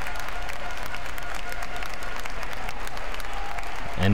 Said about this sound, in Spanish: escuchen la gran ovación que el público dio al pichichi del equipo